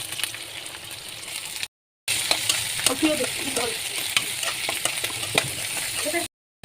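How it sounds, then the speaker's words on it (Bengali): Garlic fries in hot oil in a wok for a mixed leafy greens dish, a steady crackling sizzle with scraping stirs, close and fairly loud, broken by two brief cuts to silence. "কড়াইতে রসুনগুলো দিয়ে এটাকে আমি হালকা একটু লাল করে নিয়ে"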